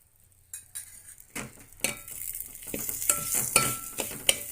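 Ghee added to a pan of jaggery-sweetened wheat rava kesari, then stirred: after a quiet start, a soft sizzle builds under repeated scrapes and clinks of a spoon against the pan, close and moderately loud.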